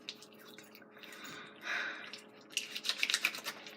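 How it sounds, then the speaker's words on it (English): Warm running water splashes over hands being rinsed, a soft close trickle and patter that swells into brighter, uneven splashing toward the end. "now you want to rinse off your hands, so wash your hands"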